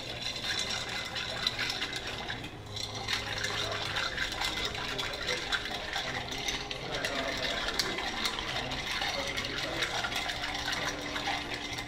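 A gin, chartreuse and vermouth cocktail is stirred at a bar in Brussels, giving a faint, steady churning rattle that continues throughout.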